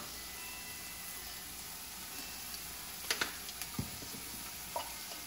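Salmon fried rice with soy sauce stirred in a pan, a faint steady sizzle broken by a few soft scraping clicks of a utensil near the end.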